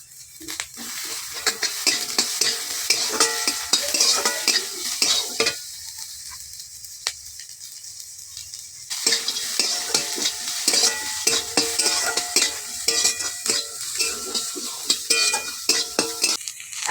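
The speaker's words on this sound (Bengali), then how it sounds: "অল্প হাতে এটা নাড়তে হবে, না হলে পুড়ে যাবে" Chopped onion stirred and fried in a pan for a taro-stem bharta, with a steady sizzle broken by repeated spatula scrapes; the frying drops away briefly midway, then resumes at full strength.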